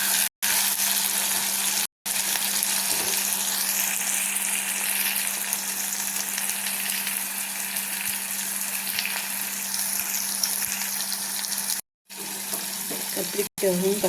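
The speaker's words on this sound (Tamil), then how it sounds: "இப்போ தக்காளி போட்டுக்கலாம். தக்காளியும் நல்லா வதங்கட்டும்." Tomatoes sautéing in a pan with brinjal, a constant bright sizzle and hiss with a faint steady hum beneath, broken by a few short cuts of silence, no talk.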